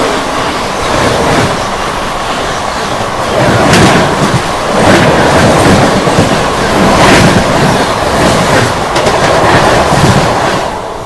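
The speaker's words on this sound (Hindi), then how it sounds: "और यहाँ सुल्तानपुर जंक्शन से पहले अपनी मुलाकात होने जा रही है train number 12391 Rajgir new Delhi श्रमजीवी सुपरफास्ट एक्सप्रेस से।" Train 12391, the Rajgir–New Delhi Shramjeevi Superfast Express, passing near Sultanpur Junction at night, a loud rumbling rush with rhythmic surges and clatter that swells and stays close, with no voices.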